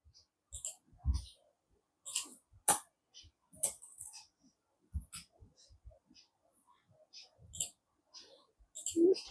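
A computer mouse clicks repeatedly while building measures in Power BI, sharp close clicks coming in irregular bursts over quiet background with faint breathing.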